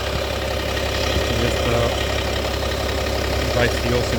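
Car engine idling steadily after downpipe work and a software remap, a constant low rumble with a faint knock-like rattle, close and continuous throughout.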